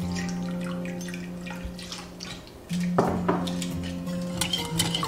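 Sugar water is stirred into batter in a bowl for steamed bowl cakes, with soft liquid swishes and light clinks of utensil on the bowl over a low steady hum, close by.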